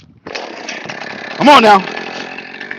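A chainsaw runs while cutting firewood rounds, making a steady buzzing engine whine throughout. Someone speaks briefly midway over the saw.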